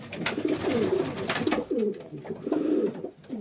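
Toy stencil frill fancy pigeons coo in a low, rolling rhythm, several throaty calls overlapping close by with faint rustling beneath, repeating steadily throughout.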